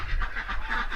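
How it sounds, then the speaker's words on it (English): Ducks penned together on a New Zealand farm quack in a dense, continuous chorus, close and loud, with overlapping nasal calls and no talk over them. "Got all the ducks in here now."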